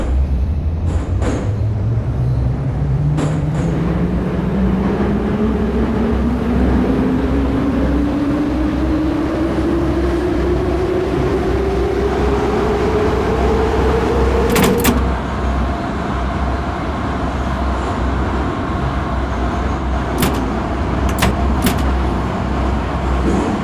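A Moscow metro train on the Arbatsko-Pokrovskaya line in a metro simulator game shuts its doors with a few clunks, then pulls away as the traction motor whine climbs steadily in pitch for about fifteen seconds, followed by rolling rumble and scattered clicks.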